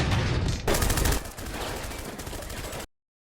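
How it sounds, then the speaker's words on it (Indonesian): Rapid bursts of gunfire crackle in quick succession in a film shootout, loud and close, ending abruptly in silence. "Aksi tembak-tembakan pun tak terhindari."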